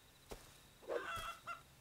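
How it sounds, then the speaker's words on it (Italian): A chicken in the survival video game Rust gives a few short, faint clucks and squawks across a couple of seconds, with brief separate calls and quiet room tone between them. "Ta! Un pollo!"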